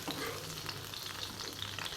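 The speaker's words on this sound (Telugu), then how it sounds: "ఈ విధంగా ఫ్రై అయితే సరిపోతుంది" Steady sizzling of ivy gourd frying in a pan for chutney, with light stirring scrapes throughout, close and continuous, no voices.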